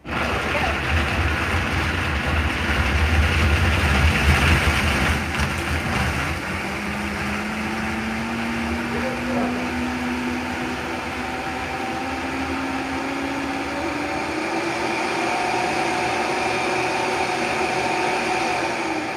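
A blender whirs loudly and steadily as it blends frozen Aztec hot chocolate, a continuous motor roar that shifts in pitch as the icy drink churns, with no talk over it.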